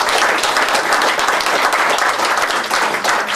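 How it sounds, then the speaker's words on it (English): Loud, dense applause from an audience in a room, honoring a state representative's parents, a steady close wash of many hands clapping without a break. "If they could get another round of applause for my mom and"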